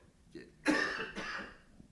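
A single quiet cough from a person speaking into a microphone, a brief double burst that trails off, close but soft, nothing else around it.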